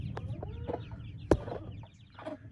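Several chickens cluck intermittently in a farmyard where a hen has laid an egg, with short, soft clucks scattered throughout and one sharper, louder squawk midway, and no talking.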